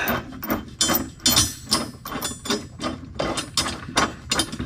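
Bolt being threaded up into a chassis tie-in bracket on a Sprinter van, heard as a close series of irregular metallic clicks, scrapes and ratcheting knocks with no talking.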